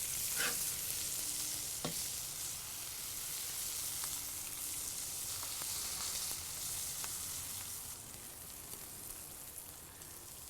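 Pork sizzles and crackles steadily in a pan for cheeseburgers, a soft, constant frying hiss with occasional sharper pops and light stirring clicks.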